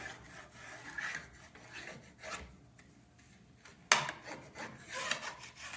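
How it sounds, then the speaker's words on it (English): Plastic scraper drawn along the edge of a waxed Lenz skibike ski, giving soft repeated rubbing and rasping strokes at close range, faint and steady, with one sharper scrape near the end. "I just use my scraper and I come in and get rid of the excess wax on the sides"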